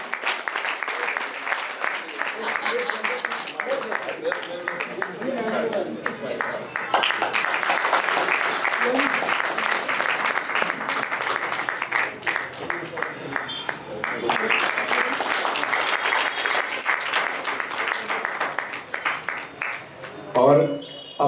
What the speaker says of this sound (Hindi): तालियां बजती रहे तो ज्यादा अच्छा रहेगा